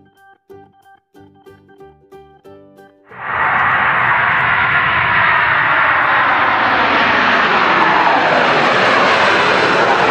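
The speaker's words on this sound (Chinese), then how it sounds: "飞机 Airplane." Airplane engine roaring at close range, bursting in abruptly after a few seconds of soft melodic tones and then holding a loud, broad, steady rumble to the end.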